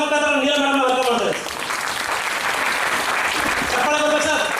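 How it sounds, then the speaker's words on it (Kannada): An audience at a company event applauds to welcome the CEO, a loud burst of clapping in the middle, framed by sustained tones at the start and end. "ಜೋರಾದ ಚಪ್ಪಾಳೆ ಮುಖಾಂತರ ನೀಲ ಮೇಡಮ್ ವೆಲ್ಕಮ್ ಮಾಡ್ತಾರೆ"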